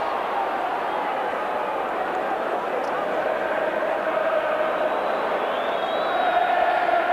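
A rugby league crowd at a Wigan v Bradford cup semi-final roars steadily after a strong attacking run, a dense, sustained cheer throughout with no clear break.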